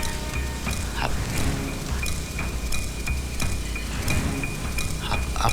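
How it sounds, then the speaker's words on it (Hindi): Steady rain falls outside a house, a continuous close wash of drops with scattered louder splashes and no voices over it. "बारिश हो रही है"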